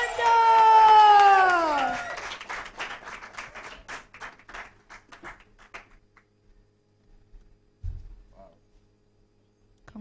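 Award ceremony audience clapping for winners, starting with a loud cheer and whoop, then scattered applause that thins out and fades, with a brief thump near the end.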